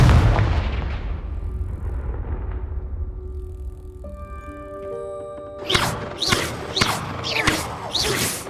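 A Confringo blasting spell explodes in the video game Hogwarts Legacy with a heavy low boom that rumbles away, followed later by a series of loud, sharp impacts and thuds.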